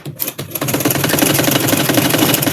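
A sewing machine runs steadily while stitching a frock seam, a fast even mechanical clatter that starts after a few brief bumps and continues loud and close without pause.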